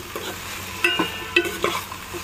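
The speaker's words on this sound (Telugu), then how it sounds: "ఇలా కలుపుకుంటూ బాగా మగ్గనివ్వాలి" Okra pieces cooking with onions in a pan are stirred with a spoon, giving a few distinct scraping clinks and scuffs over a steady low sizzle, close and fairly loud.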